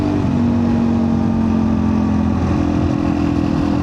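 A Suzuki DR-Z motorcycle engine buzzes steadily at high revs around 98, loud and close, with a constant droning pitch and road rush underneath.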